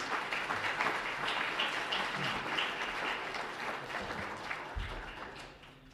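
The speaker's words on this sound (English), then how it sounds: "Can we please get a round of applause for both panelists?" An audience at a local election forum in Manitou Springs applauds the panelists, a steady, moderately distant wash of clapping that fades slightly toward the end.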